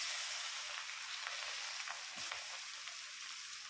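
Onions frying in hot oil with cumin and dried chilli for a light fish curry, a steady loud hiss of sizzling with faint crackles and the occasional stir, close up and with no talking.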